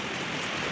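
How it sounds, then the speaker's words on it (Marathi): Steady rain falls outside around a terrace during monsoon weather, a continuous broadband hiss of drops with no distinct individual hits and no voices. "तर बाहेर मस्त पाऊस"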